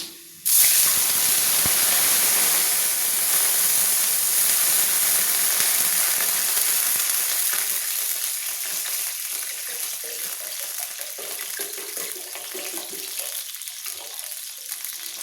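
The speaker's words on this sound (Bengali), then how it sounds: "তেলের মধ্যেই আমি জলটা একবারে দিয়ে দেবো।" Water tipped all at once into hot oil in a kadai for homestyle mixed dal bursts into a loud, hissing sizzle that starts abruptly and slowly settles to a softer, steady simmering hiss, with no voices.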